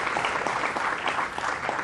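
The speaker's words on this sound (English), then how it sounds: "And that had to be applauded." An audience applauds at a 9-ball pool match, a dense, steady wash of clapping from a crowd, sustained and moderately loud throughout.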